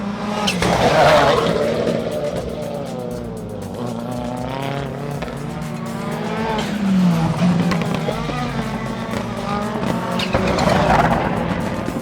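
Rallycross supercars at the 2015 Red Bull Global Rallycross at Bushy Park, Barbados, race on track. Loud engines rise and fall in pitch as cars accelerate and pass, with bursts of tire squeal throughout.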